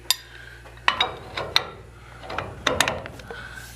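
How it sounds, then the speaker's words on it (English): Metal clicks and clanks from a pipe wrench cranking down on a copper pipe fitting for a tub water supply, several sharp irregular knocks and ratchety scrapes spaced over a few seconds against a quiet low hum. "give those a good cranking with a pipe wrench, just to be sure they're tight and not drippy"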